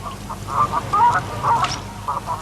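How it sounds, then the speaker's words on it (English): Ducks and geese on the lakes and ponds of Milton Keynes give a string of nasal quacks and honks, fairly close and clear over a low outdoor background. "Chris Atkinson's passion is to stock the lakes and ponds of Milton Keynes with geese and ducks for the people of the city."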